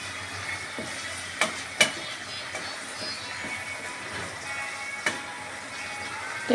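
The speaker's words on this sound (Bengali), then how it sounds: "সবজিগুলো হচ্ছে দেখো, একটু নাড়াচাড়া করে নেব" Vegetables fry quietly in a pan with a little oil, a soft steady sizzle broken by a few sharp clinks and scrapes as they are stirred.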